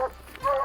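A hunting dog, treed at night under a tree, lets out a short chopping bark. The bark comes as a couple of quick, close yelps over a rough outdoor background.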